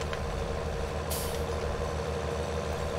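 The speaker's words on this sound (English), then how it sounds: "Say hello to our tractor out of the field." Tractor in Farming Simulator 19, heard as a steady, loud engine drone with a sharp hiss burst partway through, like a brake release, and no talk over it.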